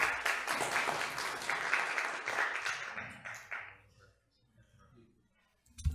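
Audience applause welcoming a lecturer at a seminar on corporate law, a brisk round of clapping that fades out after about four seconds, leaving quiet room noise and a brief knock.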